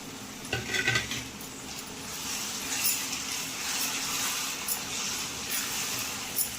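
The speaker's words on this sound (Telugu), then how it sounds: "బాగా ఇదంతా మిక్స్ చేసుకున్నాం." Andhra-style prawn peel curry with mango stirred in a pan: a faint sizzle under scattered spoon scrapes and clinks against the pan, close by, with no talk.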